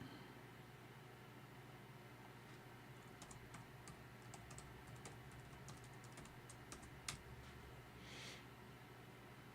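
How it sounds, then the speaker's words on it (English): Quiet clicking of a computer keyboard as someone types at a desk, a scattered run of light keystrokes over a steady background hum. "If I can type."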